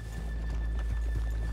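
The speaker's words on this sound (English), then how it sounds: "Let's leave the horses here off the main drag." Horses in the video game Red Dead Redemption 2, with close, soft hoof clops and a brief whinny over a low steady background hum.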